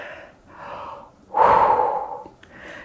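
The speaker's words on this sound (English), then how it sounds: "Take a breath here" A person breathing during a yoga session: two soft breaths, then a deeper, louder audible inhale, followed by a faint further breath, close and alone.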